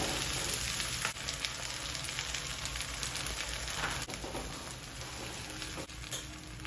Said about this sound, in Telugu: కొద్దిగా ఇది దోరగా ఫ్రై కానిద్దాం. కొంచెం ఎరుపు రుణాలు వచ్చే వరకు దీన్ని వేయించుదాం